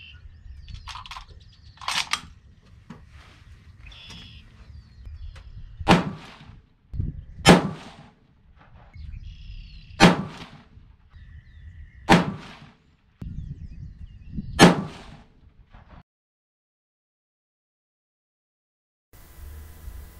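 Five sharp, loud 224 Valkyrie rifle shots firing 77gr Sierra Matchking bullets over Reloader 17 powder, each crack spaced about two seconds apart with a brief ringing tail, after softer handling clatter and ending in quiet.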